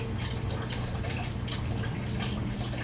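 Water softener-conditioned water runs steadily during a rinse, a continuous splashing flow with faint dripping, close by and fairly loud, with no speech.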